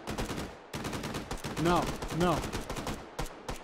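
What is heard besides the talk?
gunfire from bots in the VR video game Hot Dogs, Horseshoes & Hand Grenades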